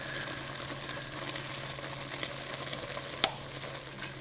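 Beef tips sizzle steadily in a pan with minced garlic and black pepper, a soft, even frying hiss with one brief sharp clink near the end.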